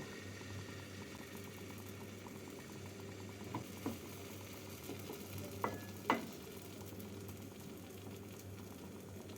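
Patisapta batter cooks in a lightly oiled nonstick pan over a medium gas flame, giving a steady low sizzle and hum throughout with a few faint scrapes and clicks, no voices.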